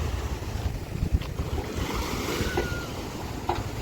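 Sea waves washing ashore at Midgaon beach on the Konkan coast during a high tide, a steady close surf roar with gusts of wind buffeting the microphone and a few brief splashes.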